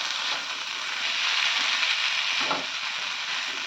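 Spice paste for paneer chole masala fries in a kadai with a steady, close hissing sizzle and a brief stirring scrape partway through.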